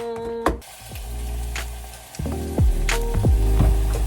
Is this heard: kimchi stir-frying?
yes